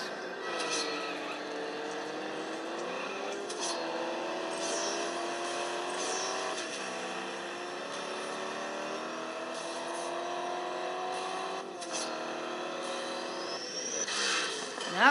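Race car engine in CSR Classics, revving through a series of rising gear pulls with brief shift breaks, a steady whining drone held up close for the whole stretch.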